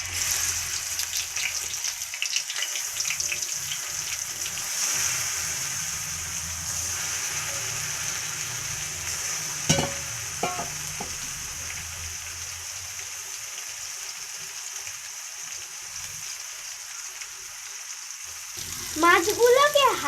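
Fish frying in hot oil in a wok gives a steady, fairly quiet sizzling hiss throughout, with a brief clatter near the middle and a short squeaky sound at the end.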